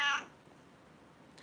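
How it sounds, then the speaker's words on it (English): A pet cat with a half-and-half face gives one short, fairly close meow at the start, then quiet room tone follows. "we got this cat just because her face is half and half"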